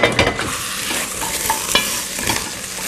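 Onions caramelizing in a pan are stirred, giving a close, steady sizzle with spoon scrapes and soft clatter throughout, and no voices.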